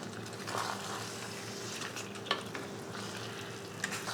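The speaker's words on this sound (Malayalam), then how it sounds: "ഇനി ഈ ചിക്കൻ ചേർത്ത് കൊടുക്കാം. നല്ലതായിട്ടൊന്ന് വഴറ്റിയെടുക്കാം." Chicken being sautéed in a pan over medium flame for a Maharani chicken curry, giving a continuous close sizzle with light stirring scrapes and a couple of sharp clicks, alone without speech.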